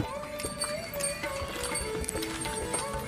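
A horse's hooves clip-clop in a quick, steady rhythm on a hard surface, fairly close, with faint voices and other noise underneath, on the Amarnath Yatra route.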